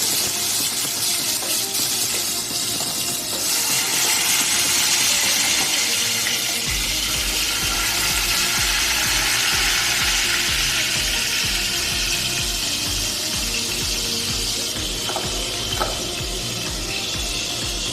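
Pieces of marinated katla fish fry in hot oil in a half-covered kadai, giving off a continuous loud sizzle and hiss with light spattering and occasional clinks, steady throughout without speech.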